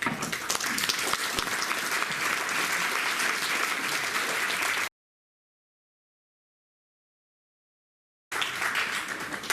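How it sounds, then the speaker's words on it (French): Conference audience applauding: dense, even clapping that cuts to silence for a few seconds, then resumes just as strongly. "Ces applaudissements qui commencent m'engagent à ne pas trop vous décevoir"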